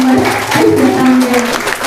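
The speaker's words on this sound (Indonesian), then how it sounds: "Kita tepuk tangannya dong" A burst of applause from an audience at a school presentation, clapping steadily under a voice and background noise throughout.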